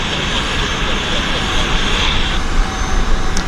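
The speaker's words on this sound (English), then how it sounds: "So that's a Pattison Airways Gulfstream 100" A Pattison Airways Gulfstream 100 jet at Vancouver airport gives a loud, steady engine roar with a broad whooshing hiss and no breaks, while someone speaks over it.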